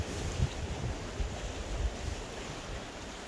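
Strong wind at the sea on a stormy fishing trip along a rocky shore, heard as a steady loud roar of gusts buffeting the microphone with surf beneath, and no voices.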